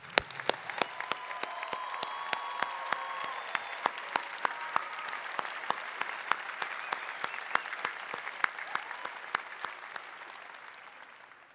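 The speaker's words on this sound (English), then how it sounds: "Please join me in a well-deserved round of applause for these outstanding individuals." Audience at the Heinz College 2024 commencement ceremony applauds honorees, a broad sustained wash of clapping with sharp individual claps popping through, holding steady for over ten seconds before tapering slightly.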